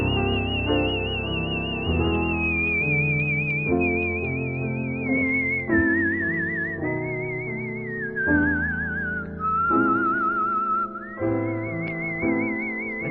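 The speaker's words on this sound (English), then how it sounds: "the whistling just wrecks the song" A person whistles a slow, vibrato-laden melody over instrumental accompaniment, the whistled tune clear and prominent above the music throughout.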